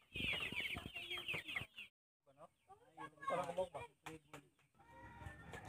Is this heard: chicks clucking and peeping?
yes